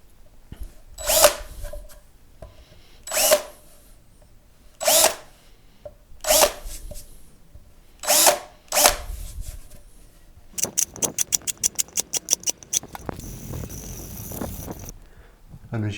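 A power drill cuts countersinks into drilled holes in a painted P Bass guitar body. It runs in about six short, loud bursts with pauses between them, then in a quick series of rapid stuttering pulses followed by a longer grinding run.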